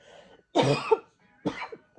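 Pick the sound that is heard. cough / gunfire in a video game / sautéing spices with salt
cough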